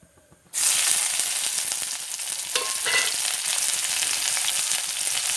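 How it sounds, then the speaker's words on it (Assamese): Onion, garlic and green chili drop into hot oil and burst into a loud, steady sizzle that holds strong, with brief stirring scrapes mixed in. "মোৰ এতিয়া তেল গৰম হৈ গৈছে। এতিয়া মই পিঁয়াজ, নহৰু আৰু জলকীয়া দি দিম।"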